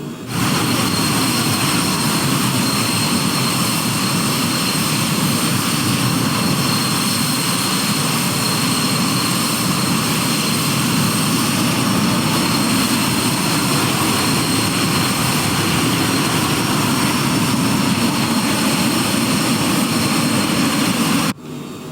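A fixed-wing aircraft in a flight simulator game takes off from LSGK, with a loud, steady engine roar and rushing wind that holds unbroken until a sudden cutoff at the end.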